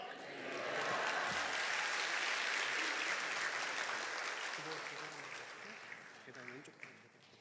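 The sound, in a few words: applause welcoming a pastor in church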